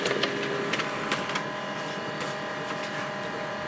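An HP LaserJet M140we printer runs a page through, giving a steady mechanical whir with light clicks and ticks near the start, close and moderately quiet, with no talk.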